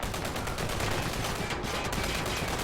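Dense bursts of gunfire and a broad explosive rumble from an airstrike fill a competitive video game match between North America and Europe, loud and continuous with no talk.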